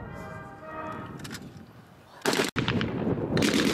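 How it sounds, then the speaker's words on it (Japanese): Machine gun firing blanks during a military training demonstration at a base open day, with a loud close burst of rapid shots after a noisy outdoor crowd background, then more firing. "ゲリラが発砲しました。"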